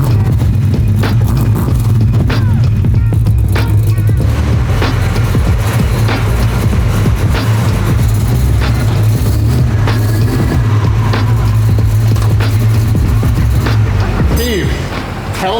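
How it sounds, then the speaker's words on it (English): A Chevelle with a 396 big-block engine roars on dyno rollers, a loud, continuous close-up engine drone with a steady low hum that eases off at the very end. "We got the Chevelle on the rollers with the 396 in it."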